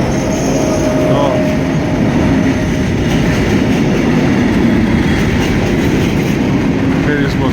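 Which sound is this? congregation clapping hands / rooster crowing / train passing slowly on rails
train passing slowly on rails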